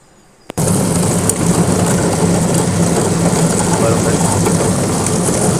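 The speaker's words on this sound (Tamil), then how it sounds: "எல்லாம் மசியுது இதே மாதிரி அரைச்சிங்க" A kitchen mixer grinder starts abruptly and runs loudly and continuously, grinding mudakkathan spinach leaves into a paste, with a steady roaring whir close to the listener.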